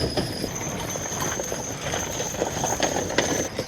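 Draft horses such as Percherons, Belgians and Clydesdales pulling as a team in a show ring, their hooves clip-clopping in a busy, uneven stream of thuds over a steady background hum, with no one talking.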